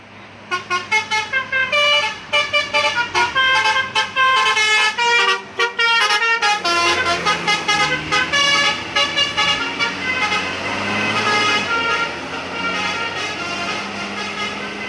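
A Nagita Transport big bus at the Sambeng climb in Gunungkidul, Indonesia, blasts a musical telolet horn in rapid repeated tooting bursts, then holds a longer melodic phrase as the engine passes nearby, loud and close.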